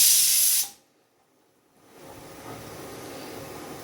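A whole dried chili hits hot oil for tempering jute-leaf dal, bursting into a loud, bright sizzling hiss that cuts off abruptly, followed by a quiet pause and then a soft, steady crackling fry.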